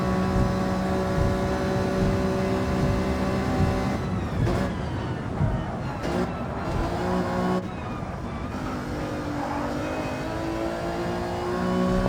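Alfa Romeo 155 race car engine in Gran Turismo 7 during a race, a sustained buzzing drone whose pitch shifts and drops around gear changes before climbing again, continuous and fairly loud.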